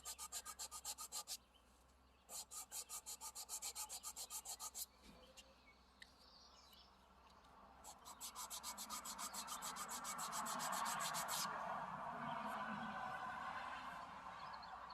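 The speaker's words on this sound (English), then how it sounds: "So you take that, flatten it out just a tiny bit, and just sand it flat on one side." Wood sanded flat on one side against a sandpaper block while making a ring: repeated rhythmic rasping strokes in bursts, then a longer steady rubbing passage, close and fairly quiet.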